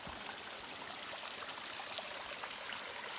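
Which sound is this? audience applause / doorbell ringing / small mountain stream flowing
small mountain stream flowing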